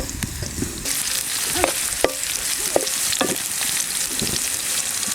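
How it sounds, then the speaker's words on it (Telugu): Onions fry and crackle in a pan for egg fried rice while a spoon stirs them. A steady close sizzle runs throughout, broken by a few sharp scrapes and clinks of the utensil against the pan. "ఉల్లిగడ్డలు వేసినాం కదండి ఇప్పుడు ఇవి ఒకసారి బాగా కలుపుకోవాలండి ఇవి కొంచెం దూరగా వేయించుకోవాలి"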